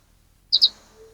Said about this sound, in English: you hear that bird sound